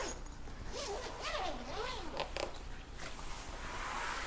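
A zipper on a gig bag for a WINZZ Gravity Series WGS100 electric guitar is pulled open in several quick rasping strokes, close and clear, followed by a brief shuffle of fabric.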